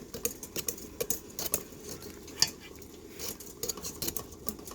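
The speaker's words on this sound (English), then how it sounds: "So I'm going to whisk with my other hand." Eggs whisked by hand in a bowl for meringue, a quick uneven series of light metallic clicks and taps of the whisk against the bowl, faint and close.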